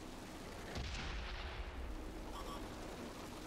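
The IS-7 tank's gun fires in World of Tanks, a single heavy booming shot with a long rumbling tail, loud over a steady low game background.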